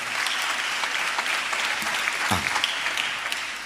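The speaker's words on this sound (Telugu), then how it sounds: "చప్పట్లు కొడితే యేసయ్యకు స్తోత్రాలు చెప్దాం గట్టిగా." Steady applause from a church congregation, dense clapping that stays loud and even throughout, with no voices standing out.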